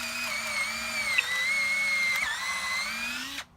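A power drill bores through the boards of a wooden mountain-bike jump ramp, a steady high whine held for about three seconds before cutting off abruptly, loud and close with no talk.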